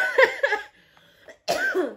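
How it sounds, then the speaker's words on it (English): A person sick with flu coughs twice, close and fairly loud, the two harsh bursts separated by a short quiet gap. "I have flu, so I'm probably gonna cough a lot in this video"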